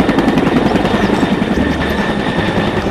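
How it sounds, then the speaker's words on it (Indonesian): Toy military helicopter producing a loud, continuous electronic rotor whir with rapid chopping pulses, steady and close throughout, no talking over it. "helikopter militer"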